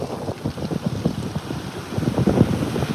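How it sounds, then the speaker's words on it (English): Rocks rolling and clattering under beach water at sunset, a dense run of close, irregular knocking bursts over wash and wind noise, growing somewhat louder toward the end with no voices. "you get this the sound of the rocks under the water"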